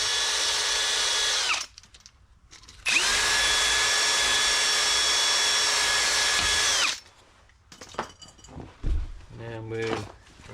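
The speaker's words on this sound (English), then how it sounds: "I've got these wire brushes for the drill" A power drill with a wire brush spins up in two long, steady whining runs with a short pause between, cleaning inside a Mitsubishi Pajero, followed by clattering and scraping handling noises.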